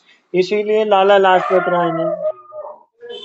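Dogs bark and howl in a drawn, wavering cry lasting about two seconds, followed by a shorter yelp, heard loud and close while someone speaks.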